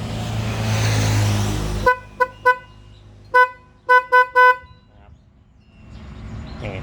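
Loud snail horns wired through a relay blast after a burst of engine noise: two quick short toots, then a longer blast and a run of three honks close together.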